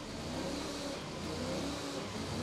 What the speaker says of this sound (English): the engine gets a good rev to make sure the Argo is alive and kicking